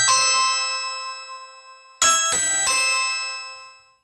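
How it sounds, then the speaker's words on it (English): A two-tone ding-dong doorbell rings twice in a row, bright and ringing, each chime decaying slowly in a quiet room. "So that doorbell going off was delivery guy with another parcel from Samsung."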